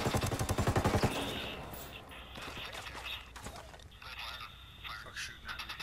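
Rapid machine gun bursts in the Ghost Recon video game, a loud fast rattle of shots at the start followed by scattered gunfire and mechanical clatter, with voices talking over it.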